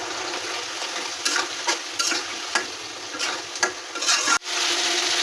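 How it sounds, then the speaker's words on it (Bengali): Spice paste of turmeric, chili, cumin-coriander powder and ginger-garlic-onion paste with a splash of water is stir-fried in a pan, a steady sizzle broken by repeated scraping strokes of a spoon, close and continuous. "এখন আমরা মশলাটা কষাবো।"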